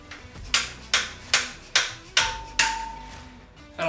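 A hammer strikes a stubborn bolt on a junkyard Ford 460 big-block engine. Six sharp metallic hits come at an even, steady pace, each ringing briefly, and they are close and clear with no talking.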